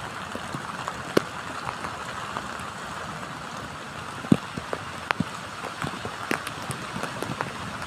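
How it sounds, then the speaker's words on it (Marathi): Heavy rain pours on the Konkan coast at Kalvibandar, Vengurla, facing the sea, in a constant dense patter. Sharp close drips and splats break through it irregularly. "पाऊस जोरात पडतो मित्रांनो"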